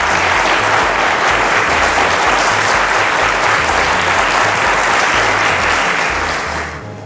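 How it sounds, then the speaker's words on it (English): A studio audience on a televised teachers' quiz show gives a loud, sustained round of applause. Thick, even clapping runs over a rhythmic musical beat and tapers off near the end. "Round of applause."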